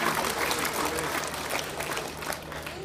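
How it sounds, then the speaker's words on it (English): A church congregation claps in a sustained burst of applause with some crowd noise mixed in, loud and fairly steady throughout. "give Him a hand clap"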